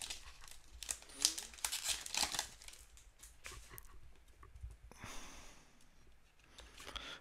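Foil wrappers of 2015 James Bond trading card packs crinkle and tear open up close, in busy bursts of rustling, then quieter handling and a final crackle.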